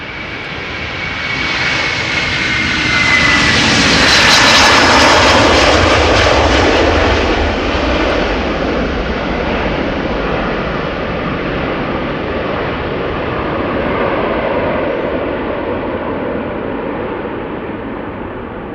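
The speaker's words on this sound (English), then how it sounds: "It is an A330-300 outbound to Detroit." Loud jet roar of an Airbus A330-300 departing Amsterdam Schiphol for Detroit, building to a peak early on and then settling into a sustained, rumbling drone as it climbs away, with no voices.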